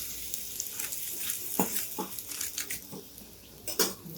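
Gujarati thepla flatbread fries in a little oil on a pan, a steady soft sizzle with several sharp spatula or pan clinks scattered through it, close and clear.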